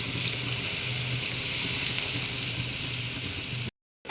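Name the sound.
water poured into sizzling vegetables for curry gravy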